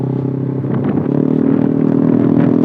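A motorcycle fitted with an aftermarket Eternal exhaust revs hard up close, its loud, throaty engine note rising and holding steady, with no talking over it.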